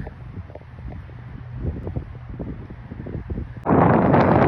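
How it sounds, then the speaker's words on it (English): Wind buffets the microphone outdoors at a cemetery in Marietta, with a low, uneven rumble, then a sudden loud gust roars in near the end. "It's windy out here"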